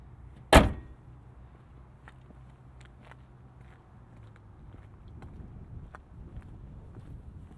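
The hood of a 2025 Nissan Sentra S slams shut with one sharp, loud thud near the start, followed by quieter shuffling and faint knocks as someone moves around and climbs into the car.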